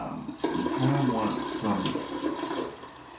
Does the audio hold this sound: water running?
yes